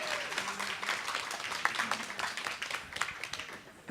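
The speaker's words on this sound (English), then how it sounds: "let's give a round of applause to just this many people being in this room" Applause from an audience at a Humanities Washington Think & Drink talk on feminism and protest, a moderate scattered clatter of hands that rises and falls unevenly and tapers off toward the end.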